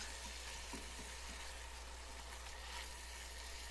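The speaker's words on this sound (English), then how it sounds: "give that meat a little bit of a chopping, go through with the spatula and break the large pieces up" Faint, steady sizzle of ground taco meat frying in a pan under a low constant hum, with soft occasional scraping as a spatula breaks up the pieces.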